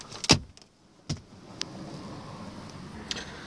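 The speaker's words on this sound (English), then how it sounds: "There's electric windows in back." Rear electric power windows run in a car, heard as quiet mechanical clicks and brief motor whirs with short pauses between them in a hushed cabin.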